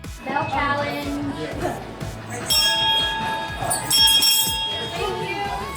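Bell ringing inside a Target store: several bright, sustained metallic dings layered over one another, with talking and background chatter underneath.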